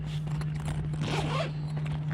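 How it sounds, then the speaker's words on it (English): Zipper on a Saddlemen CD 1750 motorcycle sissy bar bag being pulled open in one steady, close scratchy rasp over a low hum, lasting about two seconds. "I had to open that zipper up"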